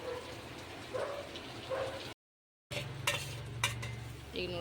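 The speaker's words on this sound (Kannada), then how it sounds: "ಟಮಾಟೆ ಹಾಕಿ ಗರ ಗರ ತಿರುಗಿಸ್ತೀನಿ" A spoon or ladle stirs tomatoes with turmeric and spices in a pan, making soft scraping and clinking metal-on-metal sounds, close but quiet, interrupted by a short silent gap before a few sharper clanks resume.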